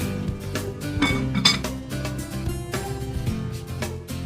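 A lid goes onto a pot of potato and fish soup with metallic clinks and clatter, some close taps and a settling rattle, followed by a quieter simmering background.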